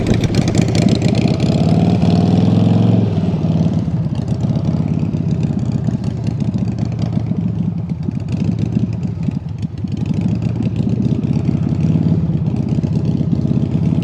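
A motorcycle engine runs steadily throughout a private riding lesson in Uruguay, a loud, close, continuous drone with slight shifts in pitch and no talking over it.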